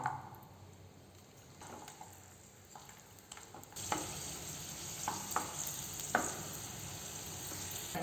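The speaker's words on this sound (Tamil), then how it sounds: "பூண்டு வந்து நல்ல ஒரு ப்ரௌன் கலருக்கு வர்ற வரைக்கும் வறுத்துக்கலாம்" Garlic fries in oil in a pan on low heat for moringa leaf podi, giving a soft, steady sizzle that grows fuller partway through, with occasional light stirring scrapes.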